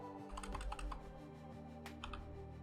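Keys clack on a computer keyboard as a password is typed during setup of a crypto-mining rig's operating system, a close, quick run of crisp taps with a short pause partway through.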